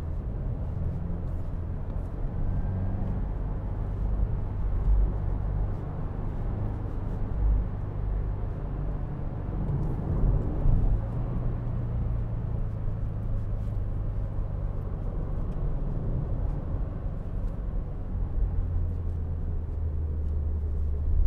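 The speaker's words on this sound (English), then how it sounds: "we can enjoy some car sounds" A car drives along the road, heard from inside as a steady low rumble of engine and tyres, continuous and moderately loud with no talking.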